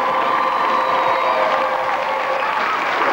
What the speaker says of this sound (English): About a big round of applause, folks.